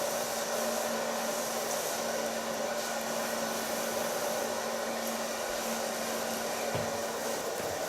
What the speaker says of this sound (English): Pull it to the back. And start drying.